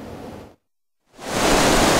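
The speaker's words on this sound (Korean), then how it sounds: "햇살이 뜨거운 여름 산자락, 산속 계곡을 따라 폭포수가 쏟아져 내립니다" A waterfall pours down along a mountain valley stream on a hot summer day, a dense broadband rush of water that drops to silence at a cut midway, then returns louder and fuller.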